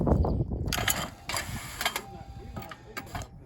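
An electronic clay target wobble trap whirs and clicks as it tips up into its highest throwing position, with short mechanical ratcheting bursts close by and some background noise.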